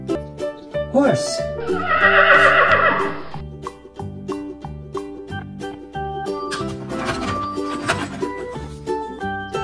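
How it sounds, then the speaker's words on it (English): A horse whinnies once, loud and close, its neigh rising out of bright, bouncy children's music that keeps playing steadily underneath. "Horse."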